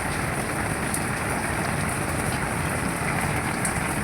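Heavy rain pours down steadily, a dense continuous hiss of drops striking surfaces nearby, unbroken and loud with no pauses.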